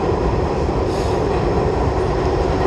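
A New York subway shuttle train runs underground between Grand Central and Times Square, a loud, steady rumble of wheels on rails with faint squeal and rattle, heard from inside the car with no talking.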